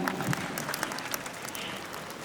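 Audience at the CJFB Award 2025 ceremony breaking into loud, dense clapping that holds steady and evenly for a couple of seconds, with no voices over it.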